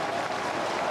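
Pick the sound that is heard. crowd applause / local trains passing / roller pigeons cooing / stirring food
crowd applause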